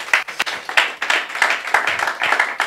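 A church congregation claps during an Easter Passover worship service, with sharp, closely spaced hand claps in an uneven rhythm, fairly loud and near, with no talk over them.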